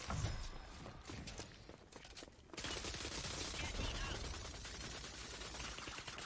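A firearm in the video game Rogue Company fired in rapid sustained bursts, with dense crackling gunfire and a brief lull before a long continuous volley, loud and close with no talk.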